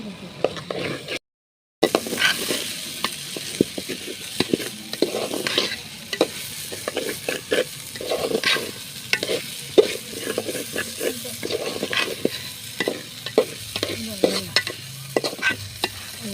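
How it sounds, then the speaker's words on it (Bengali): Potatoes and rice frying in oil for khichuri, stirred steadily in a pan with repeated scraping strokes over a constant sizzle, close and busy throughout, with a brief gap near the start. "তেল ঢেলে দেওয়া হয়েছে আর এতে হচ্ছে আলুও দেওয়া হয়েছে এগুলাকে ভালোভাবে নেড়ে চেড়ে ভাজা হবে"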